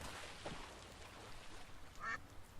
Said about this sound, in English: This noisemaker seems to appeal to the ducks.